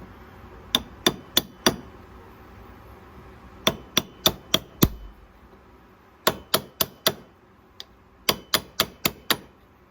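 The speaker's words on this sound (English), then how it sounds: "May just have to pop it with a hammer a couple times." Sharp metallic hammer blows on a Husqvarna 61 Rancher chainsaw part land in quick bursts of four to six strikes, separated by short pauses, close and loud.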